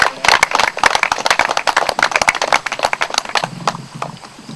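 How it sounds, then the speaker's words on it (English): Audience applause at a 4th Virginia Infantry Company A drill demonstration: a dense burst of many hands clapping, loud at first and thinning toward the end, with a low hum underneath. "A round of applause."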